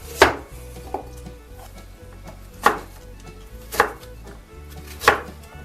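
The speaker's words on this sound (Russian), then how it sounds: "Тыкву нарезаем кубиком." A knife dicing pumpkin into cubes on a board, four or five sharp, distinct chops spaced about a second apart, close and alone.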